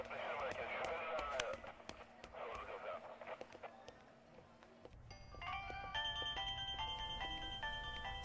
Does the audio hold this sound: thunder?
no